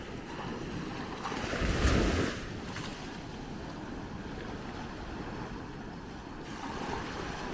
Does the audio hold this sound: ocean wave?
yes